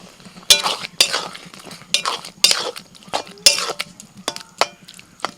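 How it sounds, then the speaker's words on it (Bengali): A spoon stirs matar palak in a pan with spices and kasuri methi, village style. Irregular clinks and scrapes of metal against the pan repeat every half second or so, close and clear over a faint low hum. "মশলা দিয়ে নাড়াচাড়া করতে করতে এবার এর মধ্যে আমি দিয়ে দিচ্ছি একটুখানি কসৌরি মেথি"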